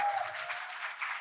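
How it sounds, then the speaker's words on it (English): A room full of audience members claps in a steady, dense round of applause after a harm-reduction talk, moderately loud and continuous for about a second with no voices over it. "to just stand on your feet and give a large round of applause to Robyn."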